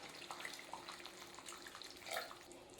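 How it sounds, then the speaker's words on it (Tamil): Water runs steadily into a pot of simmering paneer gravy, a soft continuous splashing pour at low level with a brief louder surge near the end. "இப்போ நமக்கு தேவையான அளவுக்கு வந்து தண்ணி சேர்த்துக்கலாம்"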